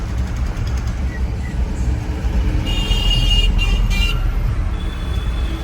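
Steady road rumble from inside a car travelling on a road, low and continuous with a brief horn-like tone midway; people talk quietly at times.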